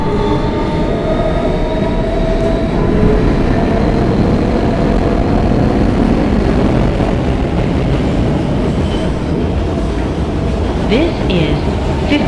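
An R160B Siemens subway train on the New York W line rumbles steadily at full speed, a loud continuous roar of wheels and motors with squeal and rattle from inside the car for twelve seconds.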